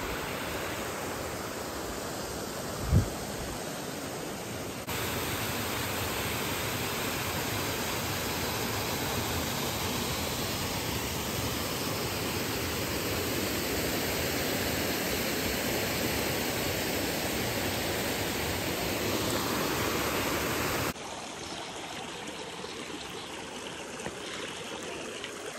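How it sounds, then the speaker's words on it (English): A waterfall rushes beside a mountain section of the Appalachian Trail, a broad, steady hiss of falling water that fills the whole stretch evenly, with one brief knock near the start and no talking. "Beautiful waterfall this morning."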